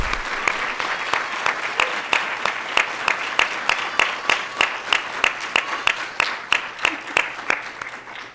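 An auditorium audience at a school board meeting claps for student artists in a steady, rhythmic unison beat of sharp, evenly spaced claps that continues at a moderate, even level.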